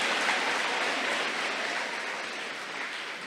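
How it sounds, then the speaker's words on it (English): Steady, dense applause from an audience at the Macatawa Bay Middle School 8th grade awards, honoring the NJHS students, sustained and fairly even throughout without any talking. "let's keep that round of applause going for all of our NJHS students here in the 8th grade at Mac Bay"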